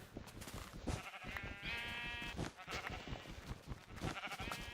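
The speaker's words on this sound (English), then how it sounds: "So many sheep." Several sheep bleat in the Minecraft video game, wavering, layered calls overlapping through a busy, fairly quiet game soundscape, with no one talking.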